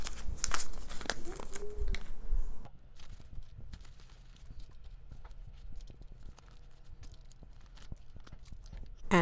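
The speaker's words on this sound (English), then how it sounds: "go ahead and put this money in the tray right now" Paper cash bills being handled and placed into a tray, with close crinkling and rustling at first, then quieter intermittent taps and shuffles.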